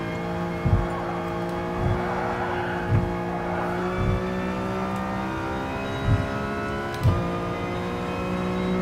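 A race car engine in Gran Turismo Sport drones steadily with a sustained high-pitched transmission whine layered over it, broken by several brief thumps and shifts in pitch.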